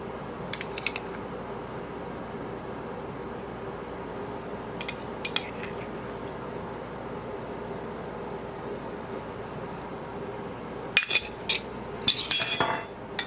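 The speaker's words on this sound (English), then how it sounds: "I'm just going to continue to mash it all together, mixing it well" Mashing and mixing potatoes and eggs together in a bowl for a shepherd's pie, heard mostly as sparse, sharp clinks of a utensil against the dish in short clusters, with a busier flurry of clattering taps toward the end over quiet room hiss.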